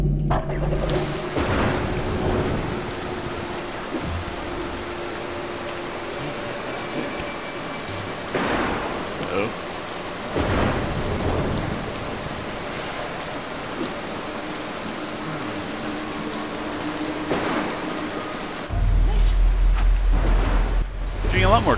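Thunderstorm in the stealth video game Mark of the Ninja: steady heavy rain with repeated rolling thunder claps and lightning cracks, loud and close, over a low ambient drone.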